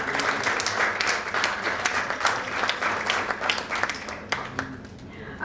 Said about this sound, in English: I request for a huge round of applause.